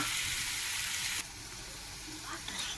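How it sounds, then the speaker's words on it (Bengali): Steady, close sizzling of flower fritters frying in hot oil, a dense hiss that fills the whole clip without any talking. "এটা এখন ভাজা হোক।"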